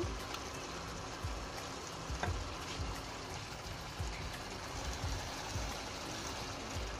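Water poured into a pan of fish and pointed gourd curry, a steady close splashing trickle with a soft liquid rush that continues evenly throughout, no voices.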